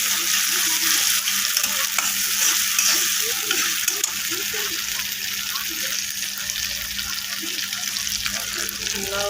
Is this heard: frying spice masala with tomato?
yes